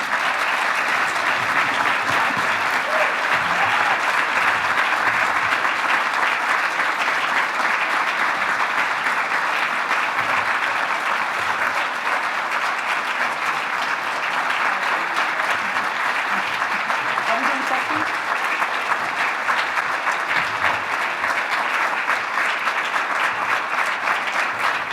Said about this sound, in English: I didn't know if y'all were going to clap after that